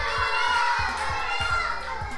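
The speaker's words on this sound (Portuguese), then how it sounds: "Acho que essa torcida tá bem acirrada" A crowd of children shouts and cheers for the blue and yellow teams during games at a kids' event. The noise is loud and continuous, with overlapping young voices.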